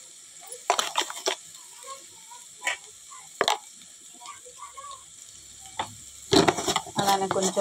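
Onions frying in a pan are stirred with a spoon, producing scattered scraping clatters and taps over a faint sizzle, with busier stirring near the end.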